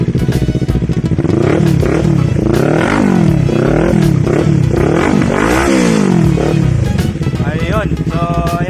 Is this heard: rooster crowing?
no